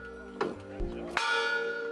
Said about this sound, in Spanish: el tañido de una campana marcaba el momento justo en el que Martin Luther King compartió su sueño con todos los norteamericanos